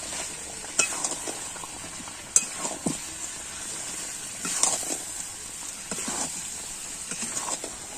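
Masala chicken is sautéed in a pan, giving a soft steady sizzle with spaced scrapes and a few metallic clinks of the stirring spoon, close up and moderately quiet, with no talking.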